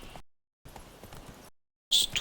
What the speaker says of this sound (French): Galopons, cheval.